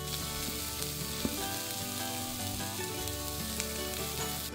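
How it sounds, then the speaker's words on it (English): Steady crackling sizzle of butter and oil frying in a hot pan before vegetables go in for a frittata, continuous and close, with faint clinks of utensils. "Look at that sizzle."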